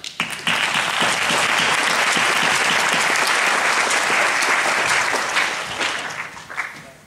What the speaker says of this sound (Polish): brawa dla Jacka.